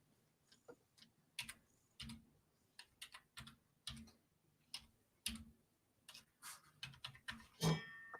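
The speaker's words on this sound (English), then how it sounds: "I'm typing it in there so she can see it." Fingers tap a computer keyboard in an uneven rhythm of faint, close clicks, with short bursts of keystrokes separated by brief pauses.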